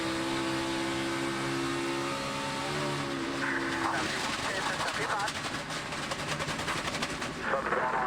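A NASCAR stock car at a 2015 Texas race blows its left rear tire and spins out. A steady engine drone gives way to a harsh, rapid flapping and pounding from the shredded tire, loud and close.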